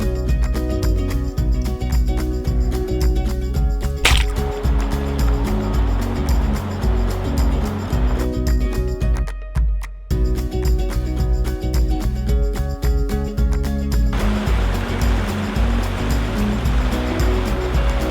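A narrow trout river flows with a steady, full rushing and babbling close by. The sound runs continuously for the whole stretch, with one brief dip in the middle and no voices.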